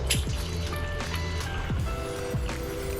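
Water bottles being filled from a clear stream near Havasupai, with gurgling, glugging fill sounds and rising pitched burbles repeating over a steady background of flowing water, close and moderately quiet.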